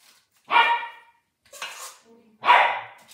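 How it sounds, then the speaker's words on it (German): A dog barks loudly nearby, two sharp barks separated by a softer yelp, with quiet pauses between. "Das ist mein Hund"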